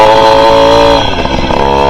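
A Tomos Flexer moped engine on a first ride, loud and close, revving hard with a buzzy, slightly misfiring tone in first gear, then dipping briefly as it backs off and shifts before picking up again.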